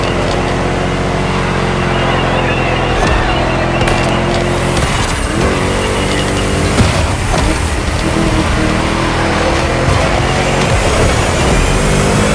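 A Ford Mustang from The Crew Motorfest racing game drives at speed with its engine droning and revving loudly and steadily, with harmonic engine tones shifting through gear changes across the whole stretch and no one speaking.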